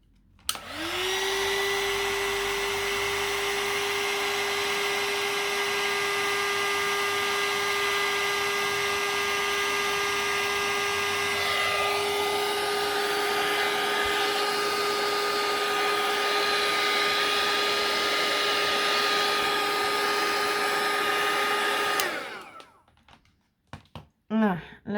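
A heat tool drying embossing powder blows with a loud, steady whirring hum and hiss for about twenty seconds, then switches off, leaving a few faint handling knocks.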